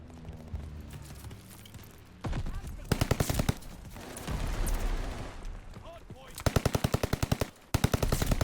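Bursts of rapid automatic Welgun fire in the shooter Call of Duty Vanguard, loud and close, coming in several sharp strings separated by brief lulls and game noise.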